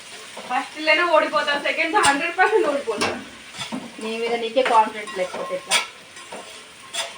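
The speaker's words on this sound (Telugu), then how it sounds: "ఇప్పుడు ఈ దొండకాయలు ఆయిల్లో మంచిగా ఫ్రై కావాలి" Ivy gourds fry in hot oil with a steady sizzle and occasional stirring clatter from a pan, while a person talks over the cooking throughout.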